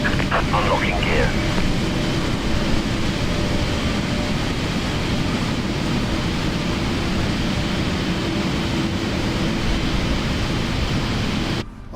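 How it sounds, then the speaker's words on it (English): Boeing 777 engines idling in a PMDG flight simulator game, a steady broad roar with low rumble held evenly throughout, loud and continuous, with brief faint clicks near the start. "Alright, both engines are running."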